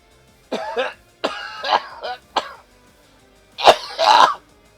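Someone coughing repeatedly during a Pokémon Legends Z-A gaming session, a string of close, loud hacking bursts separated by brief silences, ending in a heavier pair of coughs.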